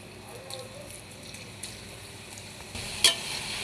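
Cabbage pakoda frying in hot oil, a faint steady sizzle with light crackles and a brief louder spatter near the end, heard under quiet background noise.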